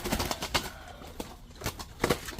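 A dove coos in short low bursts, several calls spaced apart, close and fairly loud against outdoor background noise.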